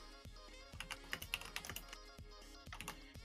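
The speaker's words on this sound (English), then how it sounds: "I can hear someone typing." Rapid, uneven keystrokes on a computer keyboard clatter close by in quick bursts with brief pauses, alone with no talk, during an online game of Blood on the Clocktower.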